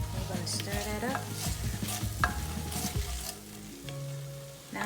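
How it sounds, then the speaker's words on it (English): Ginger sweet potato coconut stew with lentils being stirred in a pot, close, busy scraping and clinking of the spoon against the pot over a soft simmering sizzle. "You're going to stir that up."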